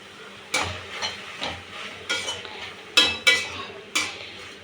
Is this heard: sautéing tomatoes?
yes